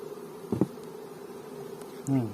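A faint insect buzz hangs in the air, with a couple of brief louder passes as bees fly near the microphone.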